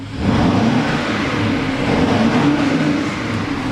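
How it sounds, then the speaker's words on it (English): 2016 BMW X5 xDrive50i M Sport with a twin-turbo V8, exhaust revving into a deep, steady growl that holds loud and close for several seconds with no talking. "We like the growl of the V8, and it's a turbo."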